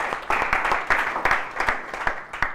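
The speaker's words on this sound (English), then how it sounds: "Just clap for yourself." An audience at a Learn2Earn gathering in Otukpo claps for themselves, a loud, lively round of applause with repeated sharp clap bursts rising and falling over about two and a half seconds, no voices clearly heard.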